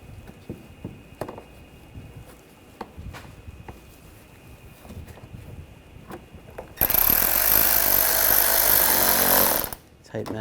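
A power tool drives a screw into the front bumper cover of a 2013-2022 Buick Encore 1.4L, a loud close burst of whirring lasting about three seconds after light handling taps and knocks.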